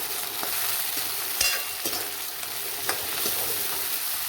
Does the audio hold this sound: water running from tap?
no